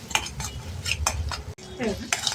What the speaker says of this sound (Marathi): आता गॅस चालू केला आपण एक परतायचं आपल्याला।